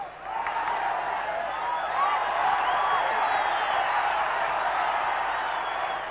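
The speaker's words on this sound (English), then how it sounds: "Crowd love that." Broad, sustained roar of a football stadium crowd at the 1990 World Cup match between Colombia and the Soviet Union, swelling slightly and holding steady, with whoops rising over the wash of noise.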